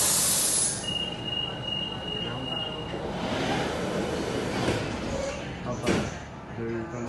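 A Rome metro train pulls out of Ottaviano station with steady rumbling, squealing wheels and a door sound, heard from inside the carriage while someone talks over the noise.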